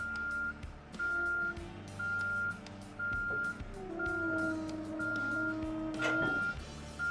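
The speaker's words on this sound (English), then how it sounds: "Back your tractor up to the trailer." Repeated reversing beeps sound as a truck tractor backs up toward a trailer, the evenly spaced tones ringing out over a low engine rumble, with a brief louder clunk near the end.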